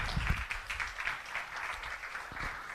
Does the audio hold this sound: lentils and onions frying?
no